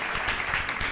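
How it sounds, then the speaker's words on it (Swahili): A church congregation claps in a brief, dense burst of applause, steady and fairly close throughout. "Makofi mengi zaidi kwa Mungu"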